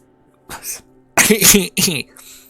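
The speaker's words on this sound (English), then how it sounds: "Excuse my cough." A short burst of coughing, two or three harsh hacks close to the microphone, with a soft sound before them.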